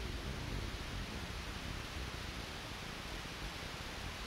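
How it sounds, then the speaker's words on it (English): A TV in the horror video game Faith gives off steady, close white-noise static that hisses evenly and without a break. "We got some white noise coming from the TV over here."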